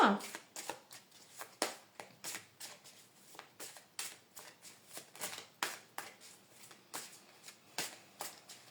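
Tarot cards are shuffled by hand in a quiet room, a series of quick crisp riffles and soft slaps repeating roughly every half second.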